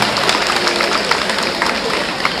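Steady applause from a large crowd at a Pongal celebration in a men's college fills the whole stretch, dense and continuous with scattered sharp claps.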